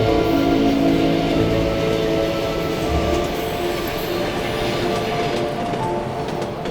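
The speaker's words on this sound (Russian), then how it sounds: "А привыкли к тому, что поезд время от времени ездит?" A train passing close to a rural house, a loud, continuous rumble with faint rhythmic wheel clatter that eases slightly toward the end.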